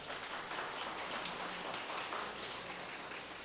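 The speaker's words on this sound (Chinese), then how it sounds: "用咱热烈的掌声，来多谢杨董事长" Applause from a church congregation at a Sunday worship service, a dense, even wash of many hands clapping throughout at moderate, slightly distant level, with no voices on top.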